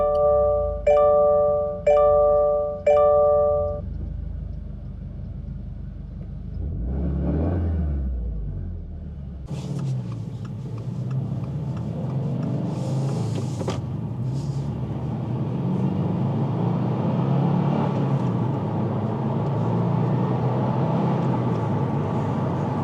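A 2025 Subaru WRX tS starts after a few chimes, then its engine rumbles and builds as the car accelerates through the gears, with gear-change breaks and a steady, loud engine and road roar; no talk.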